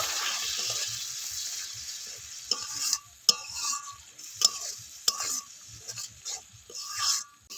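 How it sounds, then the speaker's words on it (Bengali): Fish curry masala with cumin and coriander powder being stirred and fried in a pan with a little water, a soft steady sizzle broken by repeated scraping spatula strokes, close and moderately loud with no talking. "এবার এর মধ্যে সামান্য একটু পরিমাণ জল দিয়ে মশলাটাকে ভালো করে আবারও কষিয়ে নেব"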